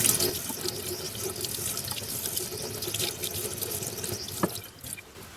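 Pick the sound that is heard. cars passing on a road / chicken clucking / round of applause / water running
water running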